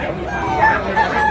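A rooster crows amid the bustle of the Tabunok chicken market in Cebu, a short, fairly close call rising over a steady background murmur.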